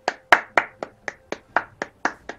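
Steady hand clapping from a few people, about ten sharp claps in an even rhythm, close and clear with no talking over them.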